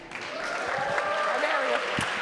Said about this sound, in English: let's give a big hand